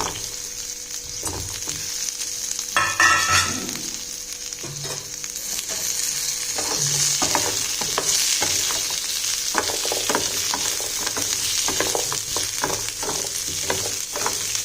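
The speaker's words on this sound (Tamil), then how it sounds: "நல்லா வதக்கிக்கோங்க. வெங்காயம் தக்காளி பூண்டு 3 வதங்கிடுச்சுங்க" Small onions, tomatoes and garlic sauté in a pan for a village-style fish curry, a continuous sizzle broken by repeated spoon scrapes and taps against the pan, close and without speech.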